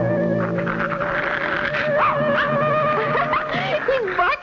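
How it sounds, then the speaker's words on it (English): A dog in a vintage cartoon yips, howls and whimpers in rising and falling wavering cries, loud and close, mixed with a cartoon soundtrack. "He's barking at that awful-looking face."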